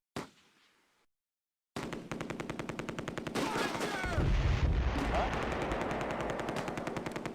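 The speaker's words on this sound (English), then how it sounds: "We're under heavy fire." Machine gun fire from the Close Combat A Bridge Too Far war game rattles in rapid sustained bursts after a short silence, layered with heavier thumps and dense battle noise that swells and stays loud.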